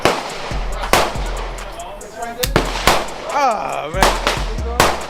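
An AR15 rifle fires a handful of sharp, loud shots outdoors with uneven spacing, while people talk and shout between the reports.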